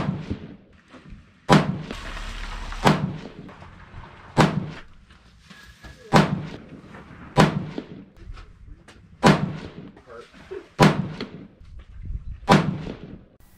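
A series of loud, sharp 6.5 PRC rifle shots fired one at a time with Retumbo powder and Federal 210 primers during a 10-shot ladder test, about nine reports at roughly even intervals with a brief pause between them.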